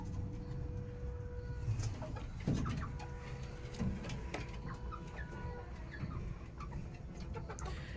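Sonali breed chickens on a poultry farm cluck and call on and off, several birds overlapping at middling distance against a low farmyard background.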